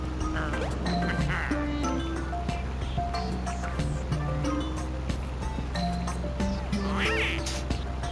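A duck quacking repeatedly among other birds and water noise, a busy outdoor scene with a steady low rumble underneath and sporadic calls throughout.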